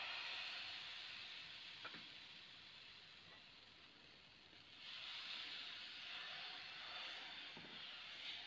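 Ragi dosa batter sizzles on a hot tawa with a steady, quiet hiss that swells louder partway through, with a few faint clicks.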